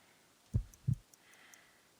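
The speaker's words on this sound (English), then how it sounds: "I need to concentrate and count the heartbeats." Heartbeat in the Detective Abyss Sherlock Holmes video game: a single soft, low double thump, close and muffled, over a faint quiet background.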